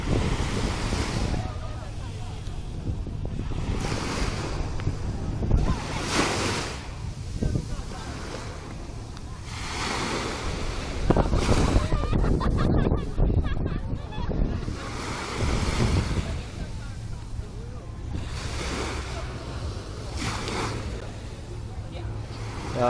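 Sea waves at Sentosa beach in Singapore, a broad rushing wash that swells and fades repeatedly, mixed with wind buffeting the microphone and occasional talk.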